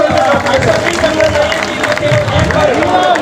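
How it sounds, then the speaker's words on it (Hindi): Loud clapping and cheering from a crowd at a rally in Muzaffarnagar, a dense sustained roar of hands and voices with talk mixed in throughout. "मुजफ्फरनगर से हमारे कई सम्मानित साथियों के लिए जोरदार तालियां साथियों।"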